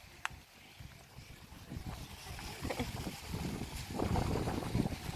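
Gusty wind buffeting the microphone outdoors at a pirate-themed mini golf course in Great Yarmouth, a low rumbling roar that swells louder toward the end, with no voices.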